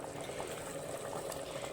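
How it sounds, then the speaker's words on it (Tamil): Water boils in a pot for country chicken biryani, a steady close bubbling and hissing with no pauses or voices. "இப்போ தண்ணி ஊற்றினோடனே ஒரு கொதி வந்துருச்சு இல்லைங்களா."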